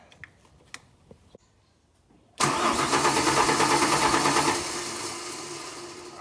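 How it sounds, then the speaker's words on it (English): A 1992 Ford Falcon EB engine starts after a few faint clicks and taps, then catches abruptly and settles into a loud, steady rumbling idle that eases slightly toward the end, with no voices. "So now that we've fired it off, let's just rejoin this relay."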